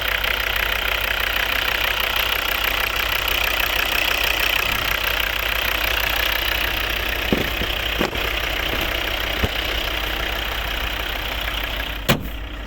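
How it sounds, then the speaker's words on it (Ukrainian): A 2013 Volvo V60 2.0 D3 diesel with automatic gearbox idles steadily up close, a continuous low engine hum with a faint knocking texture and a few sharp clicks near the end. "повністю робота двигуна"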